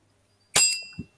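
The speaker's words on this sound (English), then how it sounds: "Bob, press the bell" A bell pressed once on a live Ford Club GB broadcast gives a single bright metallic ding that rings out and fades over about half a second, with a soft low knock just after.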